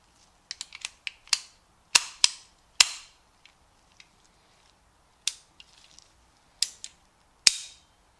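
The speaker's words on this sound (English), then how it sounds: "Dropping the slide, you can see the cartridge chamber." A 1911 pistol cutaway has its slide dropped and cycled, giving a string of sharp metallic clacks and snaps, some quick and light, others louder and ringing, spread irregularly with short pauses between them and no talking.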